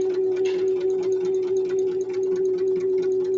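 A sewing machine runs steadily, back stitching along a strip of fabric, its needle ticking in a fast even rhythm over a constant motor hum, close and fairly loud with no talking.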